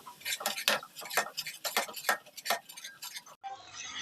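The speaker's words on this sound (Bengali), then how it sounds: "এবার হাতা দিয়ে এইভাবে নেড়ে চেড়ে খুব ভালো করে ক্যারামেলটা দুধের সাথে মিশিয়ে নিতে হবে।" Ladle scraping and clinking in a pot as caramel is stirred into milk for mishti doi, a quick run of close, bright strokes that stops abruptly, followed by a brief softer hiss.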